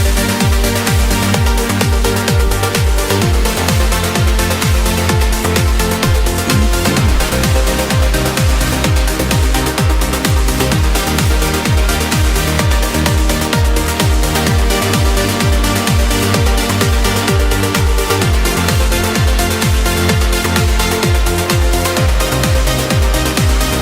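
Dense, layered trance synths from an Ableton Live session, pounding steadily and continuously at full loudness with a driving pulse and thick sustained tones throughout, no voices.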